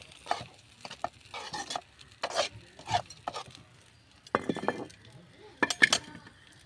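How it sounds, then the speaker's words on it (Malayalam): A spoon stirs a Malayalam-style therachi curry in a metal pan, with intermittent close scraping and clinking strokes separated by short pauses. "നന്നായിട്ടത് ഒന്ന് ഇളക്കി കൊടുക്കാം."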